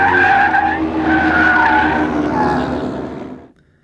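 Tires of a specially prepared Mustang, fitted with hydraulically controlled outboard wheels to induce skids, squeal loudly and continuously on a driving school skid course, then cut off abruptly at the end.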